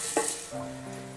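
Hot oil with heated spices poured into a pot while cooking Kochi-style erachi choru, giving a sharp splash followed by a steady close sizzle that settles into a frying hiss.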